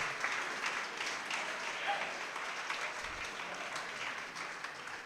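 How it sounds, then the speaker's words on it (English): Sustained audience applause fills a room at the kick-off event for the Pittsburgh 48 Hour Film Project, a steady wash of many hands clapping, moderately loud and even throughout with no pause. "please give them a resounding round of applause"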